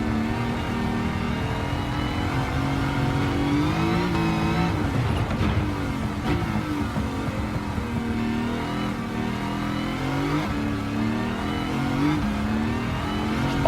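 A Pontiac GTO race car in Gran Turismo 7 revs hard through corners with a loud, sustained engine drone that rises and falls, with hints of tire squeal and no talking.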